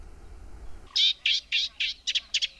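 Reed warblers calling from a reed bed, a sequence of about eight short, bright, scratchy chirps in a quick, uneven rhythm, fairly close and clear after a brief quiet lead-in.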